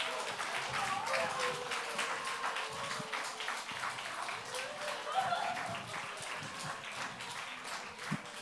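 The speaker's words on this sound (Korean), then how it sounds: "더 큰 박수로 우리 수료자분들 위로해드리겠습니다." A church congregation applauds training graduates at a Wednesday prayer service and completion ceremony, with sustained, dense clapping that carries steadily throughout at moderate loudness.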